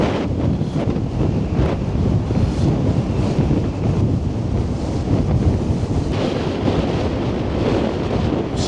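Strong gusts tear across the microphone along the Blackpool sea walls in a storm of up to 70 mph, a constant roaring rumble over crashing surf with no voices.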